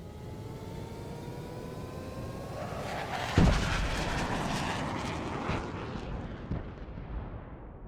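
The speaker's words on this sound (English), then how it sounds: "get the hell onto the spaceship where we launch ourselves into space, watching the entire planet get destroyed" In the Starbound game, a spaceship launches as the entire planet is destroyed: a steady roaring rumble swells into a loud low boom midway, then rolls on as sustained, fading explosive noise with no one talking.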